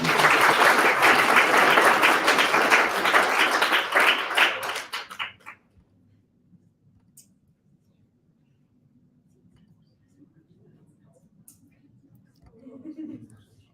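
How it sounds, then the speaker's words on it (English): Meetup audience applauding a guest speaker, a dense burst of clapping that fades out after about five seconds, followed by near silence with faint movement and a soft voice near the end. "So a round of applause, please, for Juan."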